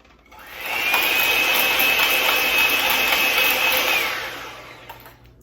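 An electric hand mixer whips dalgona coffee in a bowl, a steady high whirring drone that ramps up, holds for about three seconds and then winds down, close and loud with no talking.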